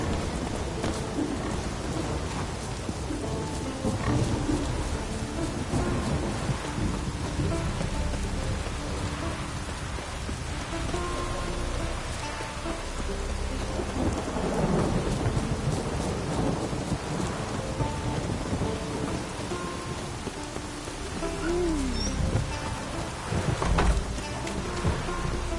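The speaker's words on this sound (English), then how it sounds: "Raining" Steady heavy rain falls throughout in The Witcher 3, with rolling thunder swelling several times, loud and continuous, with no voices.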